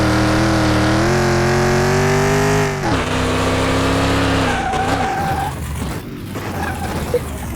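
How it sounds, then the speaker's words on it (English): Simulated car in Car Mechanic Simulator 2021 video game, braking hard during a test drive: loud, sustained tire squeal and skidding over engine noise, fading off near the end, with no talk. "You know, the brake test, you can just come in very, very slowly and then brake."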